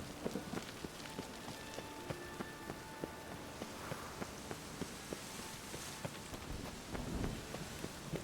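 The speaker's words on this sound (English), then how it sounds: "A storm, damn it." A rainstorm in The Witcher 3: Wild Hunt, dense steady patter of raindrops on surfaces with scattered crisp drip ticks and a light wind wash, filling the scene without any talk.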